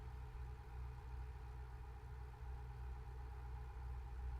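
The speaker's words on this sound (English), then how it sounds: "the engine still sounds the same" Steady low truck engine drone in a trucking video game, a rig fitted with an aftermarket exhaust, holding a constant idle-like rumble throughout with no talk over it.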